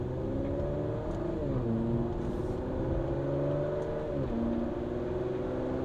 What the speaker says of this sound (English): There's a little bit of backfire.